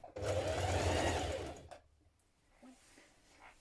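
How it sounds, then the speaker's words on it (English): A sewing machine runs steadily for about a second and a half, stitching a 1 centimetre underarm seam on a dress sleeve, then stops, leaving a quiet room with faint handling noises. "we're going to stitch that underarm seam with a 1 centimetre seam allowance"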